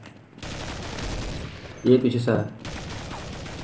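Gunfire from the Counter-Strike 1.6 video game on a snow map, a short burst of shots landing in the middle of a steady game background, with a voice speaking at the start.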